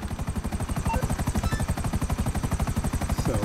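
Helicopter in GTA 5 Online: loud, steady rapid rotor chop thumping throughout at close range, alone without speech.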